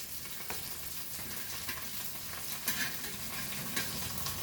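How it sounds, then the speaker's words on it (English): Fried hilsa fish goes into a boiling Goan fish curry, a steady bubbling sizzle with soft stirring clicks throughout, fairly quiet and with no talking. "So here a boil is come. So now we will add our fried fish to this."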